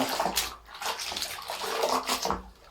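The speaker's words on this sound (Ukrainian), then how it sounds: "І ще набрала водички, гарно-гарно полощу." A knitted lace shawl being rinsed by hand in a basin of water, close sloshing and splashing in uneven surges as the wool is swished and squeezed, with no speech.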